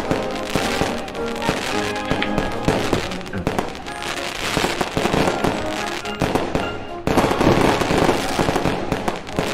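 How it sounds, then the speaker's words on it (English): Fireworks crackle and pop continuously in a dense, static-like barrage of overlapping bursts, fairly loud and steady throughout with no one talking. "Do you guys hear all the fireworks?"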